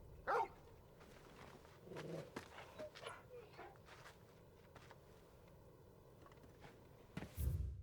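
A dog in the video game Final Fantasy XVI gives a few short barks and whimpers among soft footsteps and game ambience, with a louder burst near the end.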